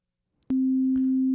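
A synthesizer oscillator switches on after a click and holds a pure, steady low-mid tone, loud and unchanging, with another faint click near the end.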